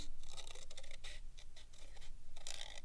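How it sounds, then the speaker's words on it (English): Scissors cut through paper along a drawn line, giving soft, close snipping and rustling strokes in an irregular rhythm, fairly quiet and with no talking. "keep practicing by following the line with your scissors and cut off the bottom"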